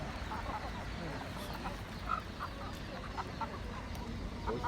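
Laying hens at a crowded outdoor poultry market in Taşköprü, Kastamonu, with scattered clucks and squawks buried under a dense, steady roar of crowd noise and murmuring voices.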